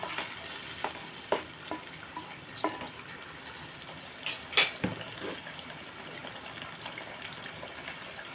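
Ginger garlic paste frying in a pan for a raw mango fish curry, a close sizzle broken by a few sharp clinks and scrapes of a stirring spoon.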